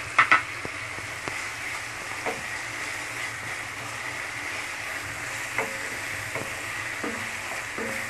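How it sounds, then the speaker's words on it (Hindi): Ginger garlic paste frying with browned onions in a pan for mutton kadai gosht, giving a soft, steady sizzle with a few clinks of a spoon or utensil near the start and no talking. "अब मैं इसमें डालूंगा अदरक लहसुन का पेस्ट"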